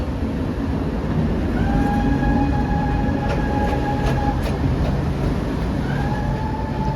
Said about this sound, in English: the trams come up and down all day